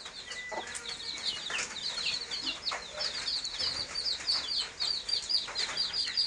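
Four hens at a small farm cluck and chirp in short repeated calls against a steady outdoor background, moderately close and fairly quiet, with no one talking.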